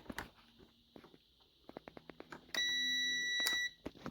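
A multimeter's continuity tester gives one steady, loud electronic beep lasting about a second while probing the power switch of a Jura Ena coffee machine, preceded by faint clicks and handling taps.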